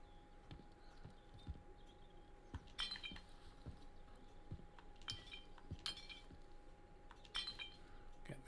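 In the video game Atomfall, faint glassy clinks and taps ring out at intervals, several short bright chinks spread across the stretch, over a low steady hum and scattered soft thuds.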